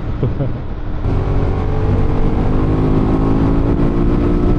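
A Ducati Monster 1200S motorcycle fitted with an oversized tire revs to high RPM on a test ride, its loud engine climbing after a second into a sustained, close, steady roar.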